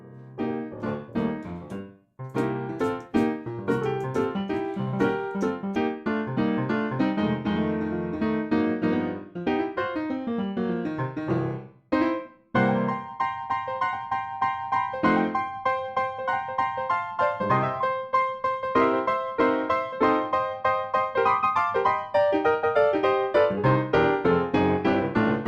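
Spitfire Audio Firewood Piano, a vintage-character sampled piano, played continuously with dense chords and melodic runs, loud and close, with two brief pauses and no talking.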